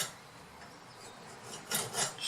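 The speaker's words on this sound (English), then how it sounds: "Use a round file" A round file rasps against the burr on a chainsaw bar, soft scraping strokes building to two louder, close rasping passes near the end.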